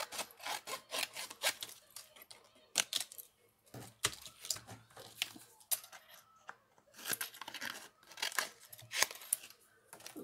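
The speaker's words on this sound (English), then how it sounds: "we'll just get our wee die out and cut off a piece" Scissors cut through a piece of card for die cutting, a close series of rough snipping and rubbing strokes in uneven bursts, separated by short pauses.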